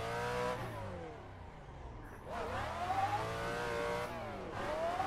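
A Nissan 350Z in a racing video game revs hard while drifting, the engine pitch repeatedly sweeping up and dropping back in several loud surges with no pauses.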